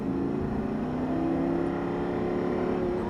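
A Lamborghini Gallardo Superleggera accelerates out of a corner, its engine holding a steady, loud, continuous drone with a slowly rising tone and no pauses.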